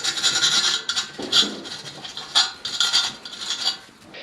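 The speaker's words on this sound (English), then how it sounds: "Now I'm going to give it a quick sand with this 220." A metal dash support bar for a Suzuki Carry DB52T is hand-sanded with 220-grit paper, giving close, rhythmic raspy strokes in short bursts with brief pauses between them.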